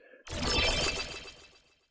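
A sudden bright, noisy burst blooms into a dense, washy tail of reverb and echo, with warp and mix set to full and delay turned down, that slowly thins out and fades away over a couple of seconds.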